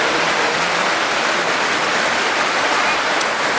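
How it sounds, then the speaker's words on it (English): Heavy rain in Trinidad and Tobago pours down in a dense, constant hiss, loud and unbroken throughout, with no voices over it. "Oh, lots of rain,"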